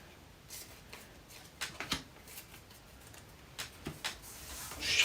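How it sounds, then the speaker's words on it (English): Playing cards shuffled back into a deck during a board game night: faint, scattered papery flicks and taps, close by, with a slightly louder riffle at the end and no talk. "Shuffle you back in."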